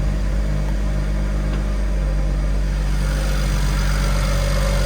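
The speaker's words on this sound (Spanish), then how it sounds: "Cómo suena el coche" A BMW Alpina B3 S Biturbo sits idling with a steady, low engine rumble that holds unchanged, close and fairly loud throughout.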